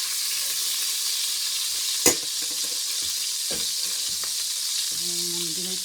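Beef chunks searing in rendered bacon fat for boeuf bourguignon, a steady loud sizzle filling the pan with occasional utensil clinks and scrapes, no talking.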